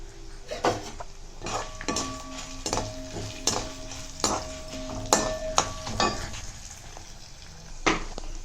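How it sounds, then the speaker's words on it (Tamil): Spices roasting in sesame oil in a pan for a Iyengar-style medicinal kuzhambu, with repeated metallic clinks and scrapes of a spoon against the pan over a low, steady background; no talking. "இப்போது நம்ம எடுத்து வச்ச பொருட்கள் எல்லாத்தையும் சேர்த்து நல்லா வறுத்துக்கலாம்"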